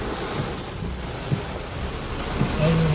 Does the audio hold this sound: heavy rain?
yes